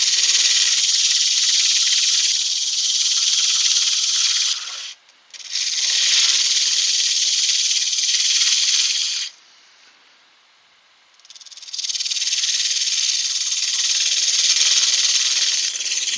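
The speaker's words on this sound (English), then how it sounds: "just ever so lightly take the rest, what's remaining, away and get it sanded and finished" A textured vase turned on a lathe is sanded, giving a loud, steady rubbing hiss in three long stretches separated by two short pauses, with no talking.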